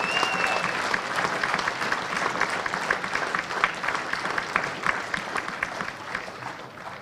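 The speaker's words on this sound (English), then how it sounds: "So what about a big round of applause?" A crowd applauds steadily for an award winner at a junior football league best-and-fairest medal night, dense continuous clapping filling the room at a fairly even level, with faint voices beneath.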